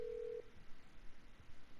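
A short phone dial tone beep in GTA 5, followed by faint clicks and low background noise, quiet and close.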